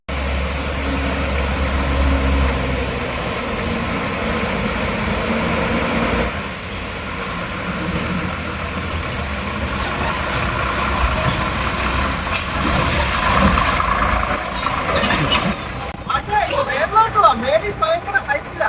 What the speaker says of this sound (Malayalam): നമ്മൾ വെയിറ്റ് ചെയ്ത് നിന്നപ്പോൾ ബസ് കയറി വരുന്നുണ്ട്